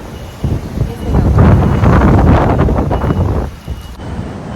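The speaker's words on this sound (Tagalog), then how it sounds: "Grabe. Ang hangin." Strong wind in Taipei buffeting the microphone in loud, roaring gusts that swell and fade.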